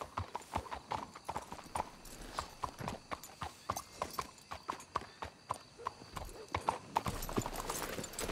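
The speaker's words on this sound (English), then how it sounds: "Let's hitch the horses up ahead." Horses' hooves clip-clop steadily on the ground in the Red Dead Redemption 2 video game, a rhythmic run of close, moderately loud hoofbeats throughout, with a brief whinny and some quiet background sounds.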